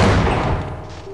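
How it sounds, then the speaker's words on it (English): A grenade blast from the video game Half-Life: Opposing Force, one loud close boom with a dense rumbling burst that fades over about a second, heard alone. "and then use super grenades"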